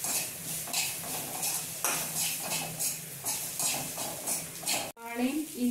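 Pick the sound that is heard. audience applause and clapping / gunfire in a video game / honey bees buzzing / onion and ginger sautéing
onion and ginger sautéing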